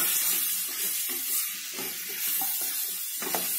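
Brinjal pieces being stirred into prawn curry in a hot pan, giving a soft continuous sizzle with scraping stirs close by.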